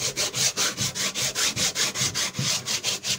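Leather shoe sole being roughened by hand, a rapid, even back-and-forth rasping scrape repeating about four times per second, close and alone.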